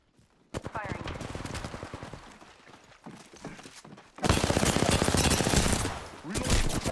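Rapid automatic gunfire in Apex Legends, dense rattling bursts that start soft then swell into a loud, sustained volley, close and continuous with short pauses.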